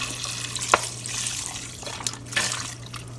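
Chicken broth poured from a large 32-ounce carton into a soup pot, giving a soft, continuous liquid splashing and trickling over a low steady hum, with no one speaking.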